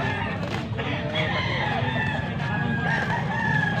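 A young rooster, a stag, crows in drawn-out calls with several birds crowing over one another, loud and close, against steady farmyard background noise.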